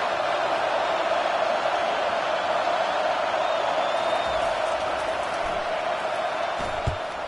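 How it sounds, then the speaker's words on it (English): A packed home crowd at an LSU versus Memphis football game roars in a dense, steady wall of noise that holds loud throughout, with faint thumps near the end. "how nice is it to have the home crowd going absolutely bananas?"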